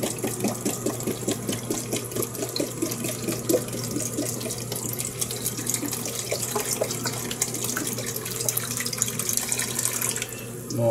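Vinegar pours from a bottle in a steady, continuous trickling stream, close and even throughout with no voices over it.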